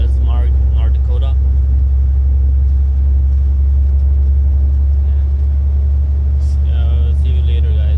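A truck cruising on a highway toward Bismarck, North Dakota, holding a constant heavy low rumble from engine and road, with someone speaking briefly at the start and end.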